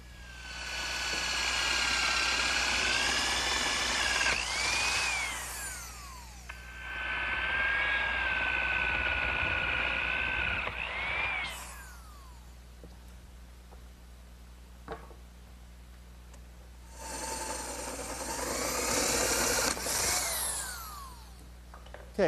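An electric drill bores angled 12.5 degree holes in wood in a woodworking shop, making three sustained whining bursts with pitch shifts that are loud and close, separated by quieter gaps, with no talk.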